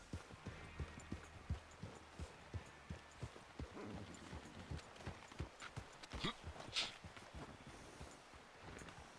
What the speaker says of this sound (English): Hey, control that horse.